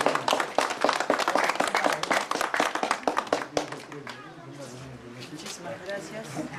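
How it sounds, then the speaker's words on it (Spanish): Applause at a village religious fiesta for the Virgen del Rosario, a crowd clapping loudly and steadily for about four seconds, then fading as a voice and background music continue. "Un aplauso, por favor."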